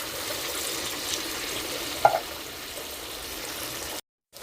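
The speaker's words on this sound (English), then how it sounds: "I'm going to add a tin of chopped tomatoes" A tin of chopped tomatoes going into a pan of sizzling cumin seeds for chana dal, a steady hissing sizzle with one brief splashy burst partway through, then a sudden drop to near silence.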